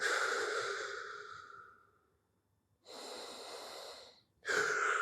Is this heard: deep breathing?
yes